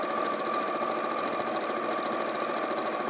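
A sewing machine runs a steady straight stitch through a fat quarter with a zipper foot, a continuous close whirring hum that holds evenly for the whole stretch with no voices.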